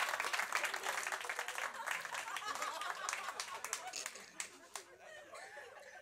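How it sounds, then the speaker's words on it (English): A room audience applauds a guest at a comedy show, a quiet spread of clapping with some chuckles mixed in, fading and thinning toward the end while voices murmur underneath. "Can you have a round of applause for Ba"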